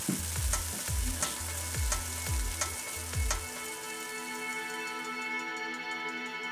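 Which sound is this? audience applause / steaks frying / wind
steaks frying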